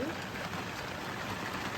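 Heavy rain pours steadily around a garden nursery of hellebore seedlings, a dense, even hiss of falling drops that stays constant and fairly close throughout.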